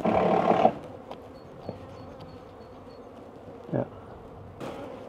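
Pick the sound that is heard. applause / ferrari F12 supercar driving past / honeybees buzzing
honeybees buzzing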